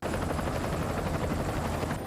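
A helicopter in an anime episode makes a steady, loud rotor thrum and engine roar that fills the whole stretch without a break.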